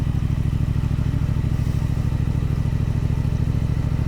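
A motorcycle engine idling and chugging at low speed in a steady throbbing rhythm, close and loud, as the rider drops into first gear.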